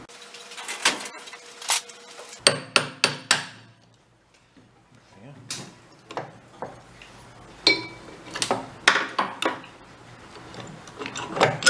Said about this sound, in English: And we need a hammer.